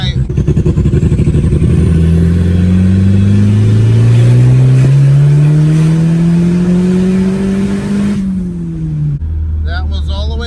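Car engine on a test drive revving hard up to 6,000 RPM, a loud, close rising drone that climbs steadily through the gears, then drops away as the throttle lifts, with a brief voice at the end.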